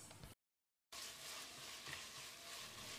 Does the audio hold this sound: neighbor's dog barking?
no